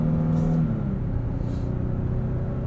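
Steady engine drone from inside a 2022 Nissan Frontier Pro-4X towing 5700 lbs, a continuous low rumble holding as the truck gets up to speed, with no talk over it.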